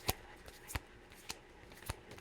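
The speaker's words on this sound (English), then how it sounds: "Just keep shuffling." Tarot cards being shuffled in short, sharp bursts: four quick riffling snaps spaced unevenly over a quiet room background, close and moderately loud, with no voices.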